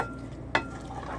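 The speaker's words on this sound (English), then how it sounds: "I'm going to take the onions, put the onions in with the beans," Caramelized onions are stirred into hot beans in a pan, giving a soft, low scrape and gentle sizzle with one brief, sharper clink or scrape partway through.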